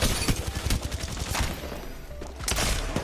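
Peacekeeper shotgun blasts in a ranked Apex Legends match, a rapid run of sharp booming shots with clattering impacts, loud and close, mixed with busy game noise.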